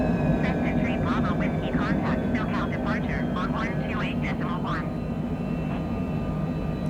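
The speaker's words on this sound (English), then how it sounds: "We do a noise abatement takeoff here at John Wayne." Cockpit of a Cessna climbing out after takeoff from John Wayne airport, a steady, loud engine and airframe drone filling the whole clip beneath ongoing pilot radio and speech.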